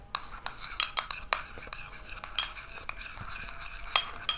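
A spoon stirs a homemade night cream mixed with vitamin E capsules in a small bowl, giving close, irregular clinks and scrapes against the container with soft gaps between strokes.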